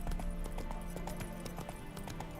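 Hooves of a galloping horse in the video game The Witcher 3 clop in a quick, steady rhythm, close and continuous over a low ambient hum.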